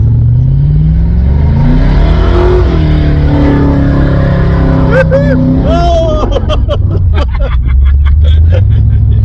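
Holden VC Brock fitted with a shortened M78 diff accelerates hard with its rear wheels spinning, the engine roaring loud and close while the tyre squeal rises in pitch near the end, and people talk over it.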